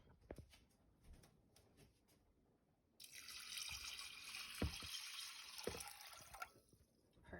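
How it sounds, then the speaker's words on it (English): Spring water pours over basmati rice in a large saucepan, beginning after a few light drips and clinks and then running as a steady, close splashing stream that continues to the end. "I'm going to pour in the spring water over top."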